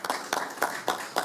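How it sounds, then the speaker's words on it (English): A few people clap at a press conference, five evenly spaced bursts of hand claps over about a second, close and moderately loud, with no crowd roar. "So that deserves a round of applause."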